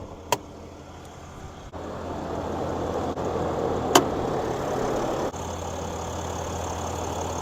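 Steady low rumble of a 6.7 liter inline-six turbo diesel truck engine idling nearby, with a few sharp clicks and knocks over the even drone.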